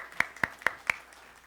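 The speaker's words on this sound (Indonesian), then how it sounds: "kasih tepuk tangan" A few hand claps at a church service come in four sharp, evenly spaced strikes, fairly faint and alone, then fade into quiet room tone.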